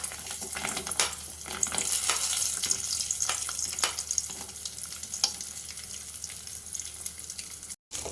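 Nuts and seeds fry in hot ghee with a bright, crackling sizzle, punctuated by scattered sharp pops and spoon clicks, and it ends in a brief cut to silence.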